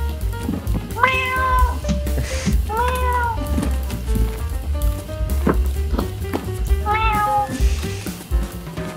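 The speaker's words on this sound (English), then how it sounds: "Is that a cat?" A cat meows several times in a row, clear drawn-out calls spaced a second or two apart over a steady low background hum, with no talking.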